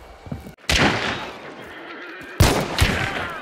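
Gunshots in the video game Hunt: Showdown, two loud sharp reports with long ringing tails echoing across the field, separated by about two seconds.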